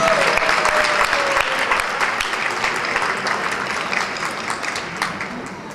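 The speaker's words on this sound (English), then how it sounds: "we would like you to clap your hands together for our springtime singer" Audience applause at a Nowruz celebration program at San Jose City Hall, greeting a springtime singer; dense, steady clapping from a crowd that holds loud throughout and eases slightly toward the end.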